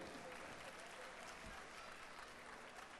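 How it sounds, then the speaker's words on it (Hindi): Audience applause at an anniversary event, a continuous, fairly faint patter of clapping from a crowd, steady throughout. "जोरदार तालियां साहब इनके लिए।"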